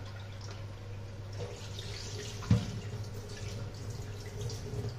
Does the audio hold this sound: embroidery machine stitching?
no